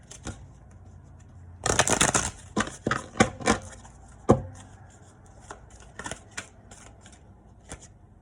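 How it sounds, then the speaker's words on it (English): A deck of cards riffled and shuffled several times: quick crisp flurries of snapping cards, then sparser taps and clicks, close and clear. "I'm gonna shuffle."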